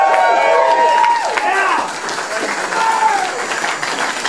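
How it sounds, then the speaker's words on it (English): A crowd applauds loudly at a live concert at The Factory Theatre, Sydney, with dense clapping and some cheering, while a voice speaks over the noise. "that deserves a bloody round of applause"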